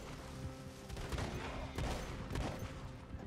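Gunfire in the video game Red Dead Redemption 2, several sharp shots in quick succession over quiet game ambience, moderately loud and close, with no talking.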